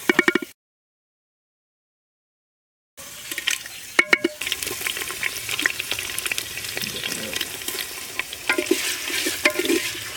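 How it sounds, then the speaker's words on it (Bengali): Bay leaf, whole garam masala and chopped onion fry in mustard oil in a handi over a clay stove, sizzling steadily with scraping stirring clatters after a short silent gap. "এবার হাঁড়ির মধ্যে আমি দিয়ে দিচ্ছি সর্ষের তেল, একটু নাড়াচাড়া করে এর মধ্যে দিয়ে দেবো তেজপাতা, গোটা গরম মশলা আর দিয়ে দেবো বাকি পেঁয়াজ কুচিটা"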